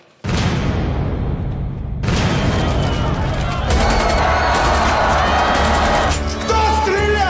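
Loud gunfire erupts in a dramatic film trailer scene, a sharp blast followed by sustained crackling shots and crowd commotion filling the soundscape, dense and chaotic to the end.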